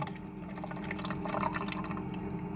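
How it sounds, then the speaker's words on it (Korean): Water runs and drips steadily inside a Dongu VEN602 mini coffee vending machine as it rinses its coffee hose and nozzle, a constant close trickle with a low machine hum beneath. "세척 버튼을 두 번 누르시면은 자, 두 번째에 대한 커피 호수 및 노즐을 또 하우징 여기를 세척하는 겁니다"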